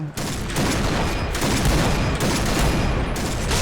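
Dense, continuous gunfire from the online shooter game Point Blank, with rapid overlapping shots and bursts filling the whole stretch at a loud, steady level.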